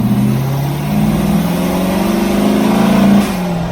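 A 2020 Chevrolet Corvette with its mid-mounted engine accelerates, the motor note climbing steadily and loud throughout with a brief dip near the end, heard from inside the car with no talking.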